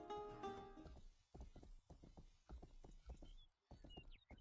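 Horse hooves clop in a rapid, steady rhythm in the video game Rustler, a brief whinny-like sound leading into repeated galloping beats that stay fairly close and even.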